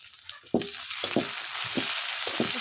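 Shrimp tossed into a pan with lightly fried onion, sizzling steadily while a utensil stirs in a few sharp, evenly spaced strokes over a constant hiss.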